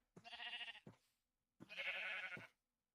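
Sheep in a video game bleating twice, two long wavering baas separated by a short pause, clear and close with nothing else around.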